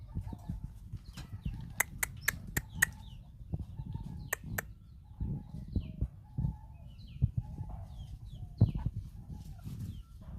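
Several chickens cluck and squawk nearby, with short sharp calls and scattered knocks and footsteps around them.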